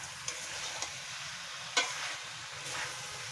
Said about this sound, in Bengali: এইবার আমি ভালো করে কষাতে থাকবো